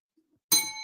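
Sharp metallic ding strikes suddenly after near silence and rings out bright, with a lingering tone.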